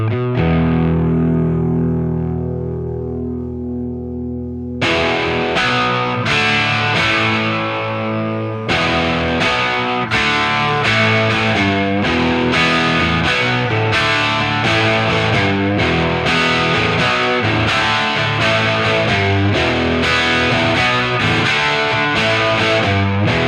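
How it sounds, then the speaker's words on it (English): Electric guitar played through a Plexi-style amp with its stock cabinet, an EQ ahead of the amp and reverb, giving a crunchy distorted tone: a sustained chord rings alone at first, then rhythmic chords and riffs follow with a reverb tail. "using the Plexi style amp with its stock cabinet, although you can switch it out for anyone you like. An EQ in front of the amp, and reverb"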